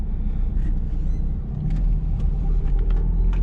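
A Nissan Juke 1.5 dCi diesel with a Renault-sourced engine running while on the move, heard as a steady, close, low rumble that continues unbroken throughout, with faint road and cabin noise.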